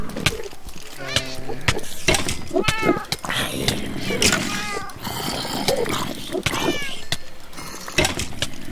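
A cat meowing in modded Minecraft, repeated close, loud game meows in quick succession over a steady background, with a voice talking throughout.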